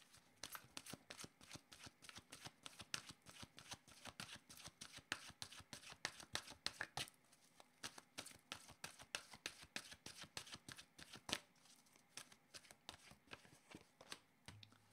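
Oracle cards being shuffled by hand, a fast continuous run of crisp riffling flicks and slaps close to the microphone, steady and rhythmic with brief pauses, no speech.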